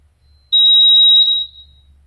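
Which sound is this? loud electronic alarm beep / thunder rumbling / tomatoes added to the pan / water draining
loud electronic alarm beep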